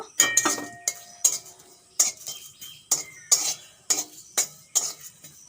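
Repeated metallic scraping and clinking of a utensil against a dry wok roasting cumin and bay leaf, in regular strokes roughly every half second, with a faint dry crackle, no voices.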